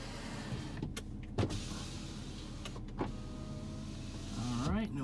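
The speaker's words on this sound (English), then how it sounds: "Let's check out our power windows." Power windows on a 2004 VW Touareg 4WD moving down and then back up, a whirring electric motor with a couple of thumps as the glass stops, heard close inside the car.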